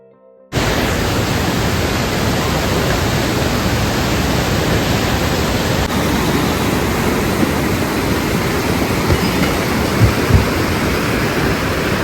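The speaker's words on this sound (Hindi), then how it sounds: "बहती हुई नदियों की कलकल आवाज़ भी आपको यहाँ से दिखाई देगी" A mountain river on the Kedarnath trek in Uttarakhand gives a loud, constant roar of rushing water that begins abruptly after a brief silence and holds unchanged throughout, with no voices.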